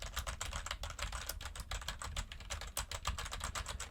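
Aggressive, hard-hitting typing on a computer keyboard beside a tripod-mounted fifine K669B microphone, producing a rapid, loud, tightly packed run of clacking keystrokes without pause and no speech.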